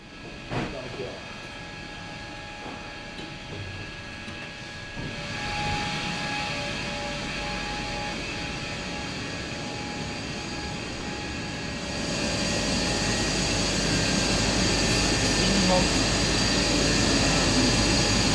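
A big machine in the turbine hall of an abandoned steel mill roars steadily with a deep broadband rumble and faint tones, growing louder partway through, with someone talking over it.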